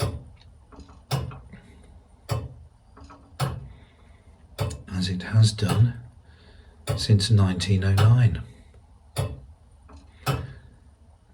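A 1909 church turret clock at St Laurence Church, Rowington, Warwickshire, ticks its pendulum in loud, evenly spaced single clicks about a second apart, and someone talks over the middle ticks.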